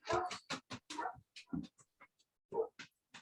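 A dog whimpers nearby in a string of short, high whines and yips separated by brief pauses, with no talking over them.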